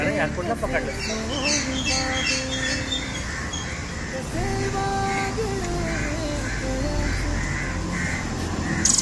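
A small wild bird chick, just saved from crows in rural Konkan, squawks loudly and repeatedly at close range, its harsh cries overlapping with nearby people's voices and crow-like calls.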